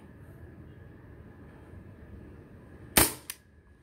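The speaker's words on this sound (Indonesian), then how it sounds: "Tadi tembakan semi sudah kita lakukan, sekarang full auto." Beretta PT92 4.5mm BB air pistol firing on full auto: a sharp, loud burst of rapid gas-powered shots followed by a single fainter pop, standing out against a quiet background hum.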